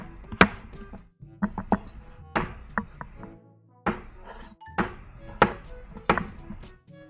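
A very sharp new knife chops curry ingredients into chunks on a board, giving a run of close, crisp thunks in irregular bursts with short pauses between.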